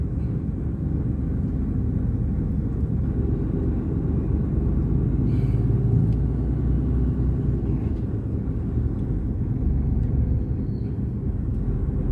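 Steady low road rumble heard from inside a truck cab in traffic near the Danish–German border, a continuous engine and tyre drone with no talk.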